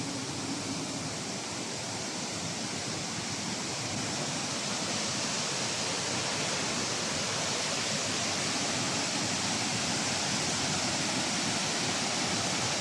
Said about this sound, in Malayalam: വെള്ളം ചാടുന്ന സൗണ്ട് ഞാൻ മ്യൂട്ട് ചെയ്യുന്നില്ല, അപ്പോൾ നാച്ചുറാലിറ്റി നഷ്ടപ്പെടും